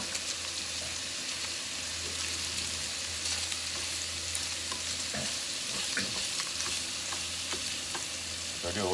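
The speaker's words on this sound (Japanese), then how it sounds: "ちょっと豚肉が炒まってきたらキャベツ入れます" Pork and freshly added cabbage fry in a pan with a steady, continuous sizzle. Occasional clinks and stirring scrapes sit over the frying noise, with no talk.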